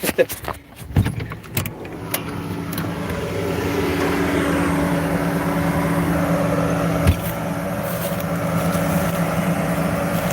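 A farm tractor's engine runs at harvest, starting with clattering and clunks of a cab door and controls before settling into a steady, loud droning hum that holds for several seconds.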